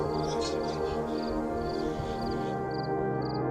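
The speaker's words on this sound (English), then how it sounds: "We fell asleep to a chorus of crickets" Crickets chirp at night in Madeira, repeating short high pulses at an even rhythm over a faint background hum, moderately near and fairly quiet.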